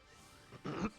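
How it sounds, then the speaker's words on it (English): A short, low throat clearing with a brief rasp, then a louder guttural burst, close up in a quiet room. "Clear my throat because I didn't bring any water in here"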